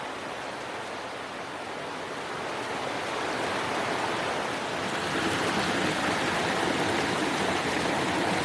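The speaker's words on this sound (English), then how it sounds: "It's really loud here, and you see that's the waterfall I was talking about." A loud waterfall in the Swiss Alps roars as a steady, dense rush of water, close and continuous, growing slightly stronger partway through with no voices over it.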